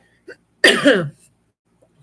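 A single harsh cough, close and fairly loud, from a man who had been talking before performing, preceded by a faint small throat sound and followed by silence.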